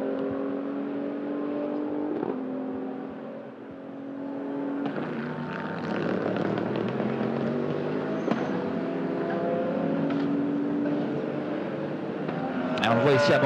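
Race cars lap the Magny-Cours circuit during a sprint race, with loud engine drones rising and shifting as cars pass and accelerate, heard throughout under continuous commentary.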